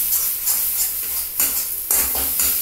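Coconut stuffing for vegetarian potol dorma sautéing in oil, with repeated spoon strokes scraping and stirring through a soft sizzle, close and rhythmic, no speech.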